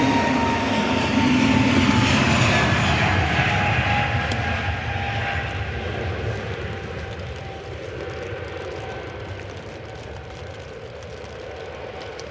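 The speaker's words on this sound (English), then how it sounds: "EasyJet departing next." An EasyJet airliner departs Manchester Airport bound for Innsbruck, its jet engines a loud, steady roar that swells early and then slowly fades as the aircraft pulls away.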